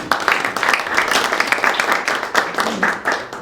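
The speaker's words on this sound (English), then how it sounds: "Give yourselves a round of applause" Networking-night audience applauding loudly and steadily for a few seconds, a dense crackle of many hands clapping close by.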